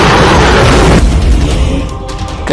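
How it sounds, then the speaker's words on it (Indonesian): A loud, booming explosion from the film Deep Rising as a cruise ship blows up, a heavy low rumble that fills the first second and then slowly decays into a rolling, fading roar with no voices. "Ketika ledakan terjadi"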